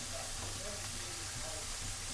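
Cauliflower florets fry lightly in oil in a pan, giving a soft, steady, faint hiss and sizzle throughout.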